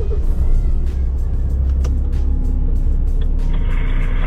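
A Renault T truck's diesel engine idles nearby with a steady, deep, loud rumble throughout and a few faint clicks over it.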